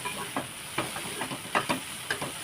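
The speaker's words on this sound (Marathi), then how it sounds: "तसं सर्व मसाल्यासाठी भाजून घ्यायचं कांदा टोमॅटो आला लसूण काजू ती आणि अख्खे गरम मसाले" Onion, tomato, garlic, cashews and whole spices roast in a pan, a soft steady sizzle broken by short scraping stirs every fraction of a second, close and without speech.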